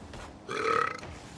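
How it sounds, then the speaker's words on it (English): A long, loud burp from a live esports commentator during a grand finals broadcast, rising after a quiet start and holding for most of a second before fading. "I'm sorry that your highlight reel is going to be filled with me burping"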